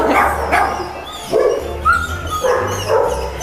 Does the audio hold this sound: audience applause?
no